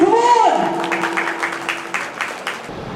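A voice speaks briefly at the start, then scattered applause follows, a handful of claps from a crowd at a ceremony honouring toppers, fairly close and tapering off.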